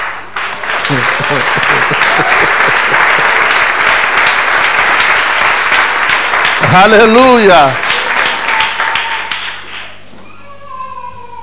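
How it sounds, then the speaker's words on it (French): Sustained, loud applause from a Sunday church congregation in Libreville fills most of the clip, with a shouting voice rising over it near the end before the clapping thins out. "Je crois que tu vas applaudir mieux que ça"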